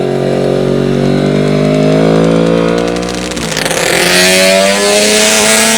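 Race cars at a hairpin during motorsport morning practice, with loud engines roaring close by, pitch rising and falling through gear changes as they pass the microphone.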